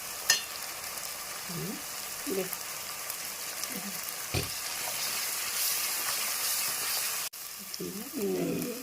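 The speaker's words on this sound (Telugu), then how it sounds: "పచ్చిమిర్చి కూడా బాగా ఫ్రై అయిపోయిందండి. ఆయిల్ బాగా కూడా పైకి తేలిపోయింది." Green chillies fry in oil with turmeric, a steady close sizzle and crackle running throughout, with a few soft stirring scrapes and a brief dip near the end.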